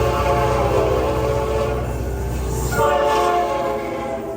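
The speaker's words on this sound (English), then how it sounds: "there goes the train from Panama City to Cologne" A passenger train on the Panama City to Colón line rumbles past with a loud, sustained horn blast, steady wheel noise and a second horn note near the end, close and continuous with no talking.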